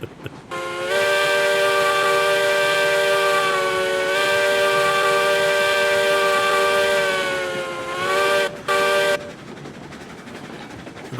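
Steam-style train whistle in the video game Railroads Online, sounding one long, loud, steady multi-tone blast of about eight seconds with a short extra toot near the end, no talk.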